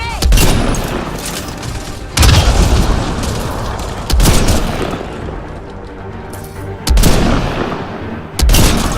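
Grenade blasts and gunfire in the video game Mass Effect: Andromeda, with loud heavy booms landing roughly every two seconds over continuous rumbling combat noise.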